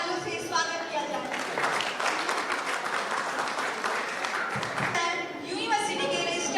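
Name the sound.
audience applause welcoming university chairman and vice chancellor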